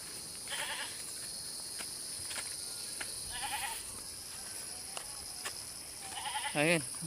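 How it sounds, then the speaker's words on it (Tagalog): A restless goat bleats a few times at some distance across a quiet farm field, brief wavering cries over a steady insect hum, with one louder, closer bleat near the end. "nagwawala na yung kambing"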